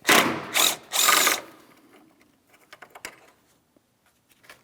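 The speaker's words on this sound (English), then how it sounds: "We'll remove our 10mm bolt" A hand ratchet spins out a 10mm bolt from an AC line bracket on a 2007-2014 Ford Edge 3.5L, three loud bursts of rapid clicking followed by quieter scattered clicks and taps.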